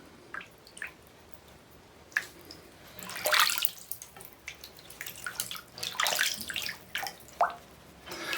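A small possum splashing in bathtub water, with irregular drips, sloshes and wet squishy splashes of varying strength scattered through a quiet background.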